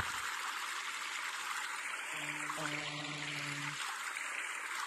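Water flows steadily on a video game map, a constant hissing stream heard alone, with a brief low hum in the middle.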